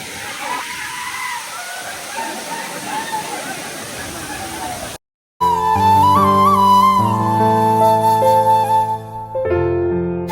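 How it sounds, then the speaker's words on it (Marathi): Rain falling near a waterfall at Lonavla, a dense steady wash of water noise for about five seconds, then a brief cut and loud music takes over. "नुसतं पाऊस चालूच आहे घरातून निघल्यापासून पाऊस चालूच आहे"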